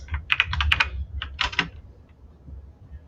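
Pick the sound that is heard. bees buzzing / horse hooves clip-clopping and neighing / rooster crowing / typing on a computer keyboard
typing on a computer keyboard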